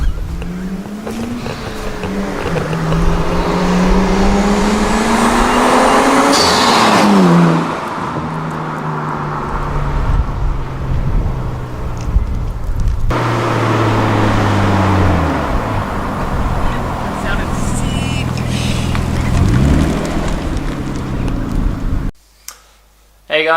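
A car driving at steady speed after a part upgrade, its engine drone rising and falling with gear changes under continuous road and wind noise, ending abruptly near the finish.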